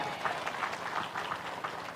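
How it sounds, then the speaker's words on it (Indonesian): Applause from a crowd at a religious gathering, a steady wash of clapping that runs through the whole short stretch at moderate loudness, with no clear voices above it. "Tepuk tangan."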